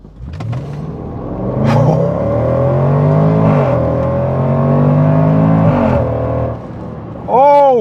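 A 2018 Range Rover Sport SVR accelerating hard in automatic mode, its engine roaring loud and close as it climbs through rising gear pulls with brief shift breaks, ending in a sharp rev flare.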